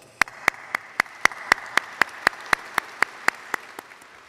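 Steady, evenly spaced claps at a high school graduation ceremony, about fifteen crisp, sharp hits in a regular beat, fairly close over a quiet background.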